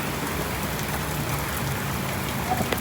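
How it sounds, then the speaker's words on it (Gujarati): Steady rain falls during a roadside tyre-puncture stop near Palanpur, a dense, even hiss of drops on surfaces, close and continuous with no talk. "વરસાદ કેટલો પડી રહ્યો."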